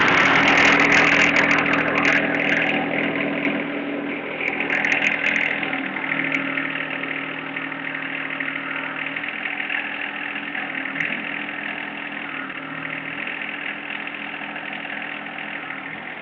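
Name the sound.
John Deere 1025R tractor engine idling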